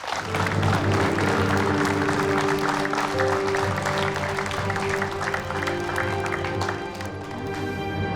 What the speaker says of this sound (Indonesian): Tepuk tangan boleh untuk Ustadz Danu, Bapak Ibu.